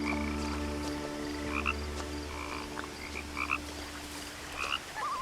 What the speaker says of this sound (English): It definitely sounds like there's a frog down there